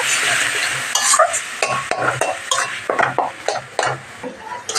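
Thick beetroot paste being stirred and scraped in a frying pan, a steady run of close spatula scrapes and clacks against the metal over a soft sizzle, with no talking.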